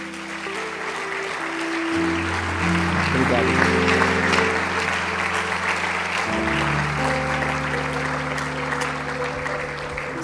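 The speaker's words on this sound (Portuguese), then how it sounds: "Você pode dar um aplauso ao Senhor?" Church congregation clapping under loud sustained worship music, the applause blending into the keyboard chords, with a brief spoken word.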